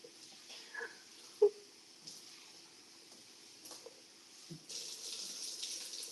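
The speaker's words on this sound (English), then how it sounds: "I'm gonna wash the rest of these off." Water trickles quietly from a tap while items are rinsed off, with faint clinks and a brief louder knock before the stream strengthens near the end.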